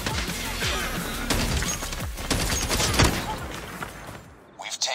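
Rapid automatic gunfire from a weapon in Call of Duty Mobile, dense bursts of loud close shots with crashing impacts over about five seconds, under excited shouting.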